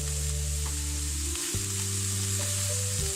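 Spring roll vegetable filling seasoned with chili flakes and red chili powder fries in a pan with a steady, close sizzle, while a steady hum of tones runs underneath throughout.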